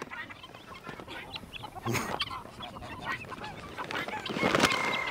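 Hen clucking in short, scattered bursts close by, with a few louder calls near the end and faint outdoor background.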